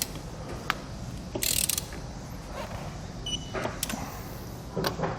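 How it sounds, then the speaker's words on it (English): A wrench torquing the lug nuts on a trailer wheel, with a few sharp metallic clicks and ratcheting bursts spaced apart over a quiet mechanical background, close by. "We can then go back and torque our wheels to the manufacturer's specifications."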